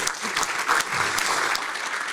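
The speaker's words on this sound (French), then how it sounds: "On peut l'applaudir." Brief burst of audience clapping for a start-up presenter at a pitch competition, dense and steady over about two seconds without speech.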